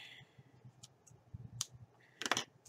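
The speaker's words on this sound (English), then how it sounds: "Get my scissors." Scissors snip through thread during bookbinding, finishing the sewing of the last signature of a handmade journal; two or three quick close clicks with a sharp double cut near the end, faint and alone.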